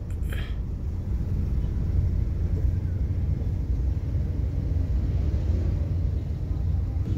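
Congested road traffic in Palembang near the LRT overpass, a constant low rumble of idling and creeping vehicles with no distinct events, fairly loud and steady throughout.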